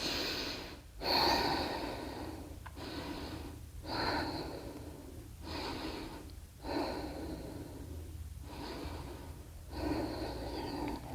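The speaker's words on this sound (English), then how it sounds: "5 deep breaths." Deep, steady breathing during a slow hatha yoga hold in a low lunge, with about seven close, airy breath bursts in an even rhythm of roughly one per second over a quiet room.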